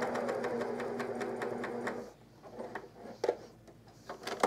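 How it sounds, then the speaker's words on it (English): A coverstitch machine runs steadily for about two seconds, sewing twin stitch lines into a camisole, then stops and gives way to quiet handling sounds and a few soft clicks. "We're gonna do our absolute best to sew into these exact same two stitch lines so it's nice and lined up."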